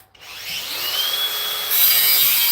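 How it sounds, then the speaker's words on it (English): A flex grinder cuts into material with a loud, close, high whine that starts abruptly after a brief silence and holds steady, growing harsher and brighter as the cut goes on. "Now, with the amazing flex grinder,"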